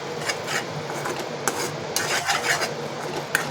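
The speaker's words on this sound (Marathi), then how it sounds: "हे वाटण व मसाले छान तेल सुटेपर्यंत परतवून द्या।" A ground spice paste with masalas is stirred and fried in hot oil in a pan, a steady close sizzle under a spoon scraping and clinking against the metal, with no talk.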